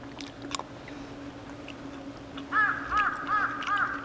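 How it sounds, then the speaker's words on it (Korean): A crow caws four times in a steady rhythm, fairly close and clear, over a low steady outdoor hum and a few faint rustles at a campsite. "까마귀인가? 뭔가 찍어달라고 되게 간절히 말하는 것 같네."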